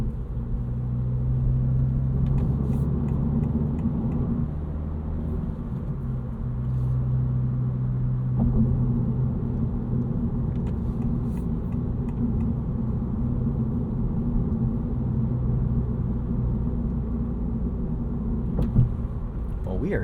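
A 2025 Honda Civic Si with a six-speed manual drives through downtown Nashville, a steady low engine and road rumble filling the cabin, with a few soft clicks and taps.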